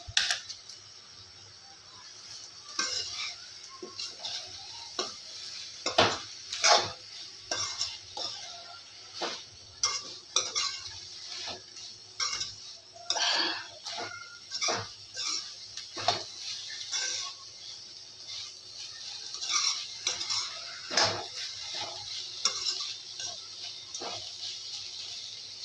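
Crushed fried tube snacks for chutney are sautéed in a pan, heard as a faint sizzle with repeated scraping and clinking of a spatula in irregular bursts, close and quiet.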